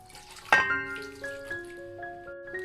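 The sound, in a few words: half glass of water poured into biryani masala and chicken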